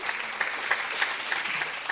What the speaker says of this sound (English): Doesn't that happiness deserve more clapping?